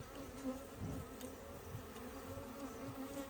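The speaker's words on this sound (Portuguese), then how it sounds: "Vou botar uma fumacinha para essas abelhas que estão meio perdidas aqui" Bees from a hive inside a tree trunk buzz in a steady, dense drone with wingbeats flickering near and far, continuous throughout with no talking.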